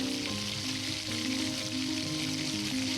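Ginger paste frying in oil in a pan for a home-style chicken leg-piece biryani, giving a steady, close sizzle with soft crackling that holds evenly throughout, with no talking.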